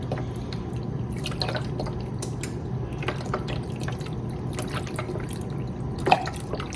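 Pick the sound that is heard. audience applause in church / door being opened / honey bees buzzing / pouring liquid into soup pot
pouring liquid into soup pot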